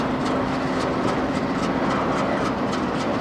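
A Union Pacific train rumbles close by with a rhythmic thumping from its second engine and clickety-clack, loud and continuous throughout.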